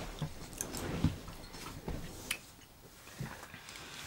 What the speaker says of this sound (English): You're chewing ice.